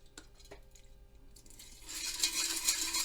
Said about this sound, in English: we're going to rinse it multiple times with distilled water to get all the tap water off of there